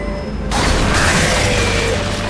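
A deep cannon boom in Tales of Monkey Island bursts in after a brief quiet start, followed by a loud rumbling, clattering tail that fills the rest of the moment.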